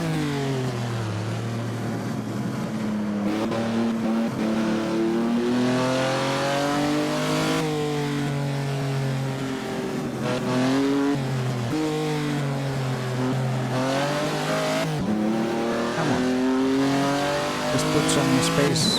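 A Ferrari race car in the Assetto Corsa racing game on a 1949 Noris-Ring Grand Prix circuit, engine loud and continuous, revving up and down through repeated gear changes with brief tire squeal, no talking.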